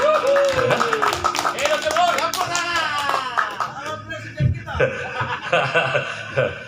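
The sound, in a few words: audience clapping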